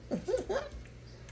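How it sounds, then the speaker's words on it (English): A pet dog yips and whimpers in a few short, close bursts, the high-pitched calls rising and falling over about half a second before quiet returns. "You know, that's my dog."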